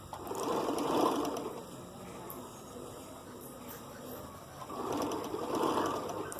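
A sewing machine stitches piping onto shirt fabric with a steady, continuous mechanical whir that swells slightly in two bursts, a faint bird cooing in the background.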